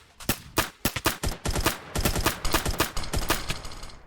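Rapid bursts of gunfire from a video game, sharp shots in quick irregular rhythm, at first separated by brief gaps and then merging into a steady stream of automatic fire, moderately loud with no talk.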